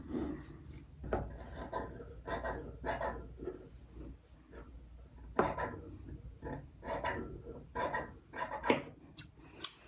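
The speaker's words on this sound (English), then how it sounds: "Just cut in the middle of that, like this, for the full width of that pant leg." Scissors cut across the width of a pant leg's fabric while it is being trimmed for hemming. Close, crisp snipping and rasping strokes come in uneven bursts with short pauses, with no voices over them.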